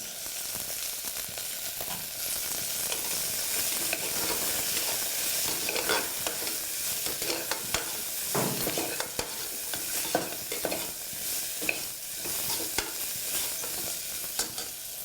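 Vegetables for veg dum biryani sautéing with garam masala, a steady close frying hiss with frequent scraping stirs and clinks throughout, no talk.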